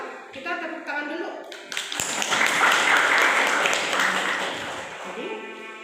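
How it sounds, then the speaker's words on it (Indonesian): Students in a classroom clap together, a brief burst of applause swelling after a moment of talk and holding fairly loud and close before slowly easing off. "Kalau sudah paham, kita tepuk tangan dulu."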